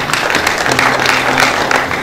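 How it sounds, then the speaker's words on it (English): Audience applause at a university alumni association Founder's Day homecoming event, a dense, steady wash of many hands clapping that fills the room, with a faint hum beneath. "Please, a round of applause for him."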